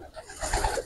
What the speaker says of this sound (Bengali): এটা হলো গোল্ডেন কবুতর